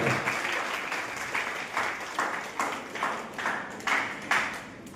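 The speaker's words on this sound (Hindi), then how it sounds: "आप लोग जोरदार ताली बजाइए सबको।" Applause from the audience at a paramedical college convocation ceremony in India, a steady patter of many hands with rhythmic surges, moderately loud and sustained throughout.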